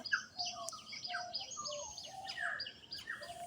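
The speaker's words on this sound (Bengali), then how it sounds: "পাখির কিচিরমিচির শুনতে পাচ্ছ তোমরা" Several small birds chirp and twitter in a rooftop garden on a spring morning, with quick overlapping high calls that are soft and a little distant over a quiet background.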